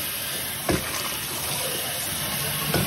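Running water pours steadily in a rinse, a continuous hiss and gush with a couple of brief knocks from items being handled.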